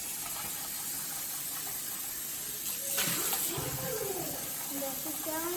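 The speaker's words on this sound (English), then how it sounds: "I'm gonna clear this out with water so I don't have much in it." Tap water runs steadily into a measuring cup, with a constant splashing hiss that brightens and gurgles midway as the cup is swirled and rinsed, and a voice speaks briefly over it.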